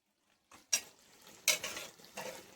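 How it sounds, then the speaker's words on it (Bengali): Mutton stir-fried with spiced potatoes in a pressure cooker, with a few close scraping stirs over a soft sizzle, three distinct strokes in quick succession. "এই মাংসটা আমি এর সঙ্গে দিয়ে কষাবো"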